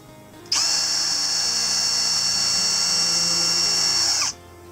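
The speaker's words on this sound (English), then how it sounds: "we're going to put the drill bit right in there. Now it's a 3/4 piece of plywood, and it's going into a 2x4 on its side" A power drill drives into 3/4-inch plywood and a 2x4 during attic ladder installation, one loud, steady high whine lasting about four seconds with a sharp start and stop.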